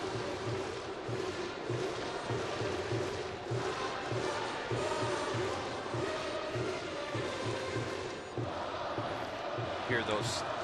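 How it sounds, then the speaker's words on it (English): Thunder sticks bang in a steady rhythmic pulse across a packed baseball stadium crowd during an NPB Tigers-Giants team game against MLB All-Stars, a distant droning clatter under a commentator's voice. "Hear those thunder sticks going crazy in the crowd."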